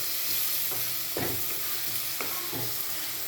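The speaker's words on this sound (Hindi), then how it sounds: "प्याज़ों को हमने 2 मिनट के लिए सिर्फ भूनना है।" Onions and green chillies fry in hot oil with a dense, even sizzle, while a few distinct stirring scrapes land around the middle and end, heard up close with no talking.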